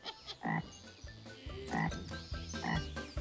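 A cartoon frog croaks repeatedly in an animated children's show, about four loud, close, throaty croaks in an uneven rhythm, each a rising buzzy call, with no talk over them.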